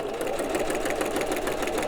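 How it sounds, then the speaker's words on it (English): A sewing machine runs continuously, stitching through a thick scrap-paper journal page with a back stitch, its steady mechanical whir close and loud throughout. "And then I sew it right in with my machine."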